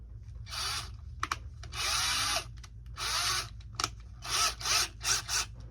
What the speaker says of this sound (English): ready to drill.